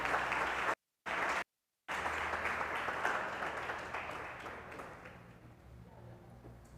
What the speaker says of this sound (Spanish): Dale un aplauso por lo menos a ese Dios que te ama.